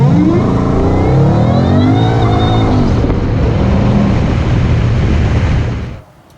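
A Whipple-supercharged 2018 Ford Mustang GT accelerates hard through the gears, its loud near engine roar climbing in pitch with supercharger whine before cutting off abruptly at the end.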